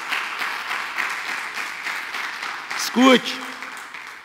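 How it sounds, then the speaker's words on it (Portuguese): A church congregation applauds the Lord, a steady, moderate wash of clapping from many people, with a voice briefly speaking over it near the end. "Dá um aplauso ao Senhor aí."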